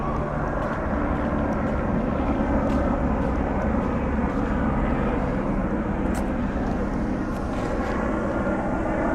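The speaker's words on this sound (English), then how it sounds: "You can hear some helicopters." A steady, loud engine roar of helicopters overhead in Long Beach, California fills the whole stretch, with faint clicks and scattered background noise.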